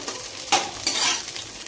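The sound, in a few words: dry fruits frying in a pan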